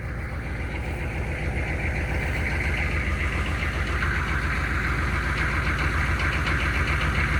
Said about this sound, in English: This would fall under the heading of an antiquated diesel. This definitely needs to get to the point of not stumbling.